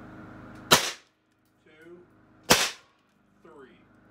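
BW S45 airgun firing TPP 155 grain hollow skirt pellets through a barrel extension, with two sharp, loud cracks about two seconds apart, each followed by a brief quiet spoken remark nearby.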